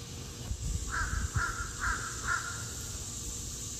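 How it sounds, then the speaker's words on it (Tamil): An American crow caws four times in an evenly spaced series, hoarse and clear against faint background rumble, moderately close, with no talk. "அமெரிக்கால இருக்க காக்கை எப்படி கத்துதுன்னு பாருங்களே."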